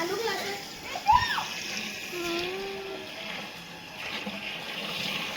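Children splashing and playing in water during Holi fun, with scattered splashes and one sharp splash near the start, kids' excited voices and chatter running over the watery sounds throughout.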